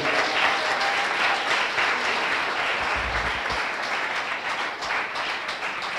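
A church congregation at a worship service applauds, a broad sustained clapping from a large crowd that continues steadily for six seconds.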